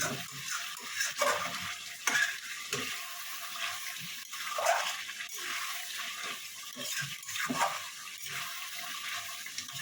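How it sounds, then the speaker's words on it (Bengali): Chicken is sautéed in a pan, giving a watery, hissing sizzle at moderate level with soft stirring and scraping strokes spread through the scene; a faint voice or two may sit underneath. "এবার আমি এটাকে ভালো মতন কষাবো।"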